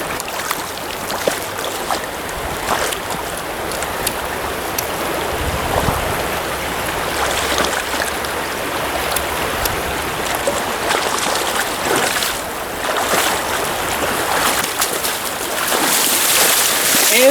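Fast-flowing stream water rushing steadily around an angler fly fishing for stocked trout in Pennsylvania in March, a loud continuous broadband wash with occasional splashes and no talk.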